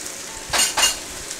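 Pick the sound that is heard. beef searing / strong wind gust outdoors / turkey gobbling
beef searing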